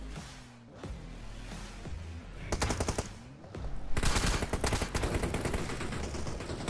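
In BGMI, an enemy squad opens fire with sharp, rapid automatic bursts that grow louder and denser after a brief lull, with rounds crackling in quick succession.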